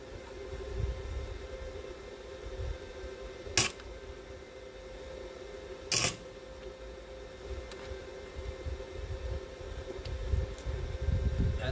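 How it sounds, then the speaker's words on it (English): Tack welds are struck inside a transmission being locked. Two brief, sharp crackling bursts stand out over a steady background hum. "We're just going to reach in there, I'm going to tack it, and I'm going to rotate around, we'll tack the other side"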